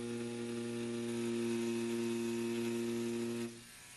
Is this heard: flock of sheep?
no